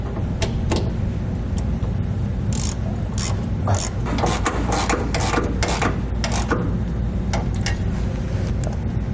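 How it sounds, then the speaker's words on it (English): Nylon lock nuts are tightened onto carriage bolts while air helper springs are fitted to a 2014 Ford F-350, a close run of quick ratcheting clicks and metallic scraping in uneven bursts, with no speech. "we'll place on flat washers and nylon lock nuts. We'll tighten those down now."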